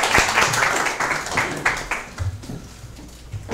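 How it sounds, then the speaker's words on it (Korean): Applause from an audience welcoming a pastor to the stage at a church lecture, a dense burst of clapping that is strongest at the start and gradually thins and fades. "먼저 우리 박수로 환영할까요?"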